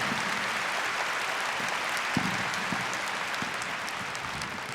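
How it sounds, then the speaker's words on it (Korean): A church congregation at a Sunday morning service in Korea claps steadily together, a dense, continuous wash of applause with a few sharper nearby claps standing out, held at an even level throughout. "우리 한번 하나님께 박수 한번 하십시다."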